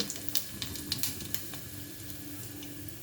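A spoonful of cumin seeds sizzles in hot oil as the tempering for a spicy fish curry, a soft, steady frying hiss dotted with faint pops and crackles.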